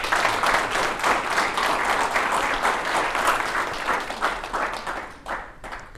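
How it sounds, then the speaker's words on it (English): Sustained audience applause at a police officers' swearing-in ceremony, a steady, full room of clapping that tapers slightly toward the end. "Let's have a round of applause,"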